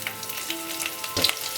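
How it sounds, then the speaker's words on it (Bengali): Garlic frying in hot oil for a capsicum chicken dish, a soft continuous sizzle with a brief clatter near the end, close and fairly quiet. "আর আমি রসুনগুলো তেলে দেবো"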